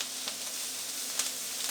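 Precooked burrito filling with beans and vegetables fries and caramelizes in a pan, giving a dense, continuous close sizzle with small pops and no voices.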